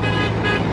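A tractor drives past on a rural sugar beet field road, a steady engine drone with a horn-like tonal note, close and continuous throughout.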